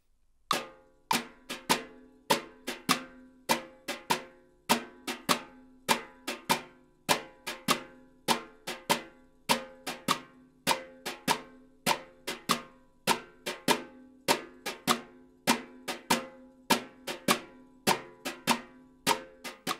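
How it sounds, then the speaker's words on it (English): Brushes play a jazz swing pattern on a snare drum, with crisp regular strokes and a lilting accented pulse that repeats evenly throughout, close and unaccompanied. "The swing pattern sounds like this when played on the snare drum."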